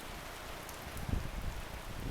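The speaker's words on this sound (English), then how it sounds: "the rain is really coming down pretty hard" Heavy rain pouring down in a storm, a faint, even hiss of falling drops with a slightly louder patch midway, no voices.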